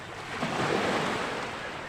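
Sea waves wash onto a shore in a broad, steady rush that swells slightly near the middle, close and continuous, with light wind and no voices.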